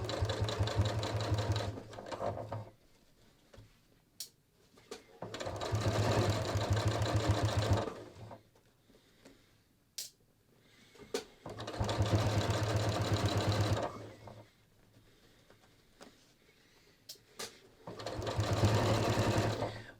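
A sewing machine stitches along the bottom of a ready-to-wear jeans waistband in four sustained runs, each followed by a pause, steady, close and loud, with brief clicks between runs and no talk over it.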